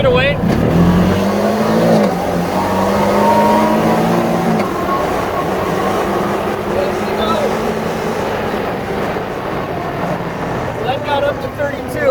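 A 2020 Honda Pioneer 500 UTV drives along a straightaway on rural property, its engine droning steadily and climbing in pitch as it speeds up, with wind noise and a voice talking over it.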